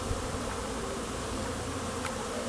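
Honeybees buzz in a steady, dense drone as they fly around the hive entrance during a spring inspection, the humming continuous and close with no voices.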